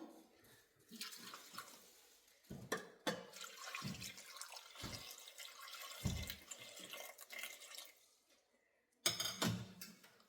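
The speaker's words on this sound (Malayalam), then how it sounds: "അതിലേക്ക് ആവശ്യത്തിനുള്ള വെള്ളം ഒഴിച്ചു കൊടുക്കാം." Water splashes and pours into a metal pressure cooker in uneven bursts, with clinks and gurgles, then stops briefly before a final pour.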